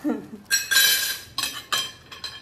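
Plates and a spoon clink and clatter close by as dishes are gathered and set down, in several quick bursts of ceramic and metal contact.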